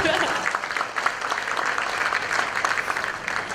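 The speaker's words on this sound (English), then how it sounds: "please give him a round of applause" Audience applause at a Toastmasters conference opening session, a steady wash of many hands clapping throughout, moderately loud and continuous with a faint murmur of voices mixed in.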